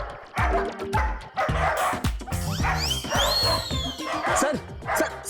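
Several dogs barking outdoors, loud rapid overlapping barks and yips within a dramatic TV serial scene, with music and voices around them.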